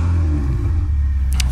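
A green Ferrari engine rumbles steadily up close, a deep low growl holding through the moment with a faint rising rev, no voices over it.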